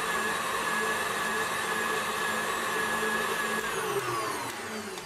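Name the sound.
electric mixer blending cream powder with water and milk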